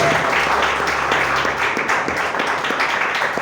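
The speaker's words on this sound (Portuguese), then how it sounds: "Aplauda o Senhor por isso" A church congregation applauding during a worship service, a steady wash of many hands clapping together at an even, fairly loud level throughout, with a low hum beneath it early on.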